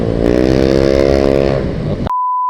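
A motorcycle with an open-pipe exhaust revs hard, a loud buzzing roar held for about two seconds before it cuts off abruptly into a steady beep tone.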